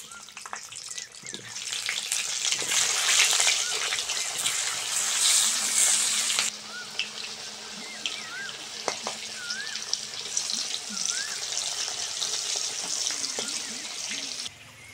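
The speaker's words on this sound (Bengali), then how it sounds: "ওই তেলের মধ্যে আলুগুলোও ভেজে নেব।" Potatoes fry in a pan of oil, a loud continuous hiss and bubbling sizzle close up, with occasional clinks and a brief faint voice in the background.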